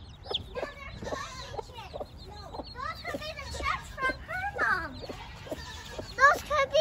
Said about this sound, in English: there were little tiny baby Buff Orpington chicks running around